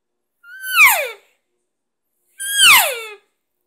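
Two drawn-out, descending mew-like calls from an elk call imitating a cow elk, with a thin whiny edge, spaced about two seconds apart, close and clear against silence.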